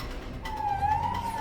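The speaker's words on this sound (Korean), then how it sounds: "사이렌을 울려서 따라가는데도" A police car siren wails during a chase with a reckless driver, its steady rising tone sitting over heavy road and engine rumble, heard from inside or near the pursuing vehicle.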